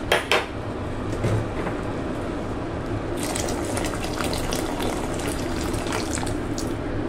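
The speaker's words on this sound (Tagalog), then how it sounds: "Magdadagdag tayo ng tubig na mainit." Hot water is poured into a pot of sautéed mung beans, a continuous gushing splash that swells after a few seconds, with a light clink of cookware at the start, close by and without talk.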